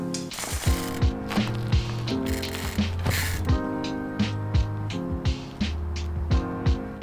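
A ratchet tool tightens parts on a Meta VTT2 trials bike, making quick rhythmic clicking runs at close range. Steady tonal hum and mechanical noises sit under the clicks.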